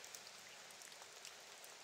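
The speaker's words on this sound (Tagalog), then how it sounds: "Grabing ulan." Heavy rain falls in a dense, steady hiss, with scattered closer drops ticking on surfaces, faint and unbroken, no voices.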